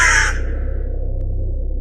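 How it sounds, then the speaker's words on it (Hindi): A black crow calls once in flight, a single loud, harsh caw that fades quickly into a steady low hum. "तभी वहाँ से एक काला कौवा उड़ता हुआ गुजर रहा था।"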